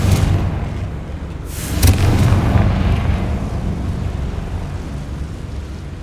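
A Confringo fire spell explodes in the video game Hogwarts Legacy. It is a loud, deep blast with a sharp crack near the start of the second second, then a long rumbling boom that slowly fades, and nobody talks.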